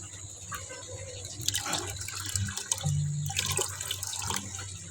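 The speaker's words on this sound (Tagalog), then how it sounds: "Lagyan muna natin ng kunting tubig galing doon." A small amount of water is poured into a container, giving a steady, soft trickle and splash that runs through the whole stretch at moderate level with no talking.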